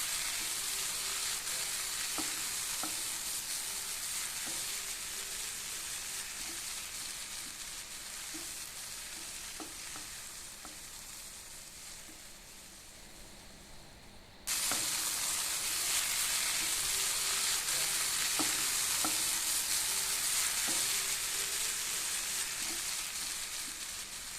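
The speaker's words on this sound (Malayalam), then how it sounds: "ഇനി നമുക്ക് ഇതുകൂടെ നന്നായി ഒന്ന് ഇളക്കി യോജിപ്പിച്ചു കൊടുക്കാം" Ripe tomatoes stirred into a sizzling pan for Malabar-style prawn roast, a constant crackling fry with faint spoon taps, louder after a sudden jump midway.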